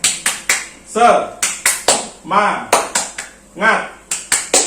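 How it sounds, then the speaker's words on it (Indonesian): Students perform a 'tepuk semangat' clapping routine: sharp, rhythmic claps and taps in quick patterned groups, mixed with chanting voices close by. "kalau saya bilang tepuk semangat, kalian dengan gerakan tepuk semangat"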